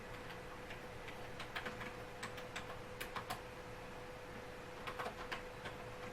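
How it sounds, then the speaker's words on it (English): Light keystrokes on a computer keyboard while entering substation breaker details into data viewer software, faint scattered taps in small bursts over a steady low background hum. "So I type in Las Vegas"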